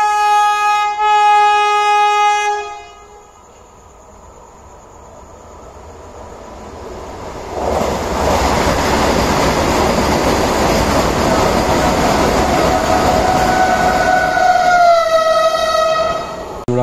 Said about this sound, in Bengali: গুয়াহাটি থেকে 2228 যে বন্দে ভারত এক্সপ্রেস আছে, গুয়াহাটি টু NJP, সেই ট্রেন কিছুক্ষণের মধ্যে থ্রু ট্রেন পাস করবে।